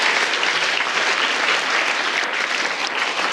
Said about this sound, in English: Let's have a round of applause for gold